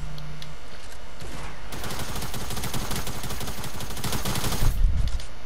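Rapid bursts of submachine gun fire in a video game, dense automatic shots rattling continuously for several seconds, loud and close, with faint background noise before and after.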